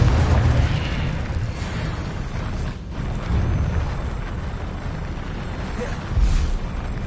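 Confringo blasting curse bursting in the Hogwarts Legacy video game, with several deep, rumbling explosions rolling beneath steady game ambience and voices.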